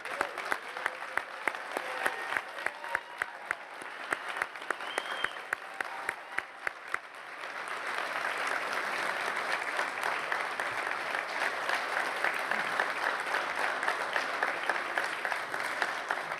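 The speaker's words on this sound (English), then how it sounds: "join me in applauding these graduates as they rise to their feet." An audience applauds graduates at the 2022 NHTI college commencement. Scattered claps at first swell into dense, sustained applause from a large crowd filling a big hall.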